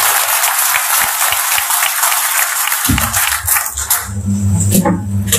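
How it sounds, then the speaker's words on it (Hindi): Audience applause in a hall, starting as dense broadband clapping, then shifting after about three seconds to a rhythmic, heavier clapping pattern with low thumps, sustained and loud throughout. "जब मैं ताली बजाने के लिए कहूंगा तो आप कानपुर वाली ताली"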